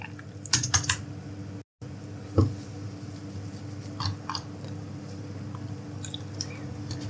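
Light, quick keystrokes on a computer keyboard come in short bursts with pauses, close and fairly quiet, with no talking.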